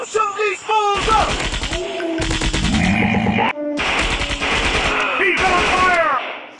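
Rapid rifle gunfire from the Commando Strike video game rattles in dense automatic bursts, loud and close, while a voice shouts excitedly over the shooting.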